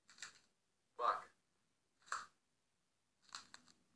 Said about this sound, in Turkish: öyle bel kırma, çıtırdatma gibi her şeyin sorumlusu pırasa.